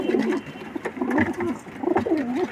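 Pigeons, including a blue pigeon with red eyes, coo in repeated throaty, warbling phrases close by, with a low rustle of background noise.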